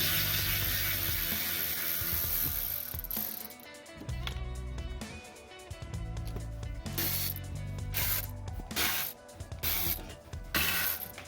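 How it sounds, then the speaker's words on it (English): A ratchet loosens 10mm bolts on the underbody cover of a 2016 Ford Fusion during an oil change, making rapid, close clicking bursts that stop and start, with brief rubbing and metallic handling noises. "After you get past the clips, keep removing the 10mm bolts."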